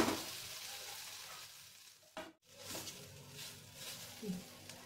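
Green chillies cook in a pan, giving a soft sizzle with stirring scrapes and a brief break near the middle, quiet and without any speech.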